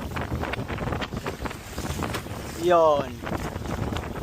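Wind buffeting the microphone and choppy water slapping while sailing a Hobie Compass, a continuous rough rush with a short louder swell midway, with a brief spoken word.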